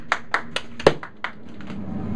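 At a child's piano recital, hands clap close to the recorder: a handful of sharp, uneven claps spaced by short gaps, then a softer scattered tail.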